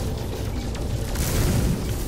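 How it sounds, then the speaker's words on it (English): Explosion in the video game No Man's Sky, heard as a loud, sustained, rumbling roar with broadband blast noise filling the whole stretch. "I don't want to be caught in the explosion."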